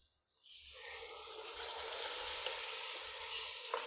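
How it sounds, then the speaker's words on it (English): Canned tomatoes hit a hot pot and erupt into a loud, steady sizzle that keeps hissing strongly to the end. "They should sizzle like mine as they hit the pot."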